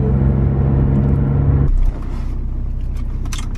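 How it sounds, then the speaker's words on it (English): A car engine rumbles loudly up close while driving into a garage, then the tone drops and the sound becomes duller and more enclosed, with faint scrapes and clatter. "driving in the garage now"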